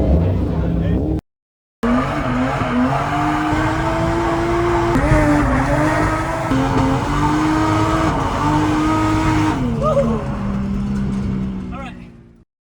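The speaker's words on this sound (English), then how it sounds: "Drifting, baby." A car drifting at a Japanese drift event, its engine droning loudly with a long, sustained tire squeal that wavers in pitch, continuous and close, broken by one short gap before fading.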